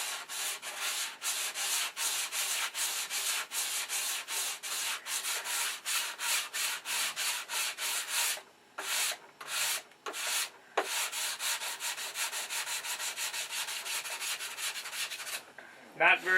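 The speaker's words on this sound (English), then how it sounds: "You can either sand all the highs to the low" Primer on a P-47 Thunderbolt scale model being sanded by hand, a steady run of close, rhythmic rubbing strokes with a few brief pauses partway through.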